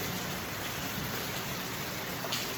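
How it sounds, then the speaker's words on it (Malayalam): Steady rain falls outdoors in the hills of Vagamon, a soft, even hiss of drops that continues without a break and stays fairly faint, with no voices over it. "പക്ഷെ മഴ പെയ്യുന്നുണ്ട്"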